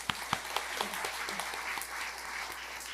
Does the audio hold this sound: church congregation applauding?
yes